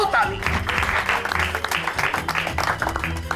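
Applause rises in an office setting, a dense wash of clapping mixed with crowd noise and overlapping voices, steady and fairly loud for a few seconds.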